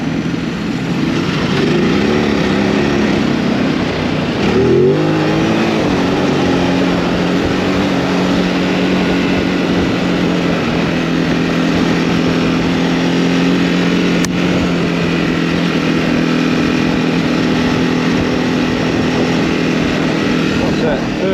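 A Ducati Desert X engine drones steadily while the motorcycle rides off-road in third gear at about 70 km/h. Loud, close wind buffeting runs through it, with a brief rev change near the start and a rider's voice speaking over it.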